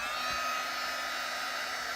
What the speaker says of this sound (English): I'm going to heat set it with the heat tool.